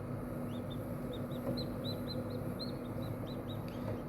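Many tiny high-pitched peeps from newly hatched chicks inside an incubator repeat rapidly over its steady low hum, faint and close.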